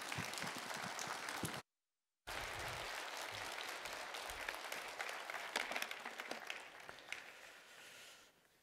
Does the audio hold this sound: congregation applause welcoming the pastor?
yes